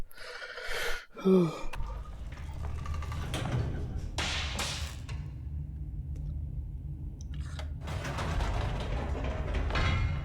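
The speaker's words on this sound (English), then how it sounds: "Stanley actually got back into the elevator and went back up." Elevator in the video game The Stanley Parable: a low steady mechanical rumble and hum of the moving lift carries through most of the stretch after an opening gasp-like breath and a couple of thuds.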